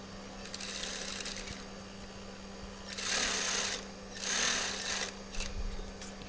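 A sewing machine stitches the fabric of a baju koko kurta, running in short bursts with pauses between them over a steady background hum, close and moderately loud.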